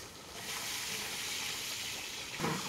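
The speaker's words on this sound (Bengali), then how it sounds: "সসপ্যান গরম হয়ে গেছে, তেলটা দিয়ে দিলাম।" Cumin and onion frying in hot oil in a saucepan for a dal curry: a steady, close, broadband sizzle that holds level throughout, with a brief louder flare at the end.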